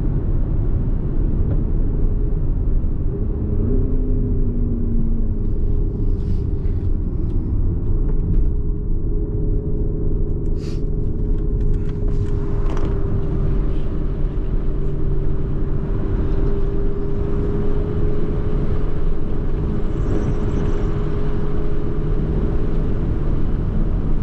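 A Porsche Cayenne Turbo GT SUV is driven steadily, producing a loud, continuous low engine and road rumble throughout. A faint tonal whine shifts slightly as the car holds its pace.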